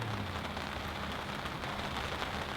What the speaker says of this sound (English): It's starting to rain again. It is coming down.